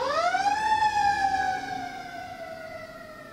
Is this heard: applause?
no